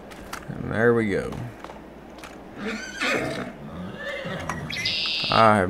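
A horse whinnies in Farming Simulator 22, with two clear, wavering neighs, one early and one at the end, over faint ambient game sounds.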